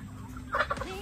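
A brief burst of turkey gobbling, a quick warbling call over a low steady background hum.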